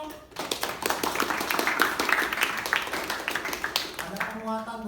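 An audience claps in a brisk burst of applause, dense, fairly close hand claps that rise quickly and then thin out as a voice speaks at the very end.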